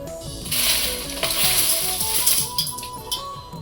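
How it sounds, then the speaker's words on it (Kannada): Dry red chillies roast and are stirred in a pan, giving a bright crackling sizzle with rhythmic scraping and clinking strokes against the metal, close and steady, with no talk. "ಒಣಮೆಣಸಿನ್ಕಾಯಿ ಹುರ್ಕೋತೀನಿ"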